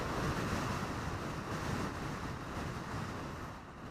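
Heavy, roaring wind buffeting the microphone while riding a 2017 Kawasaki Vulcan S motorcycle, a loud continuous rush that eases slightly toward the end, with no speech.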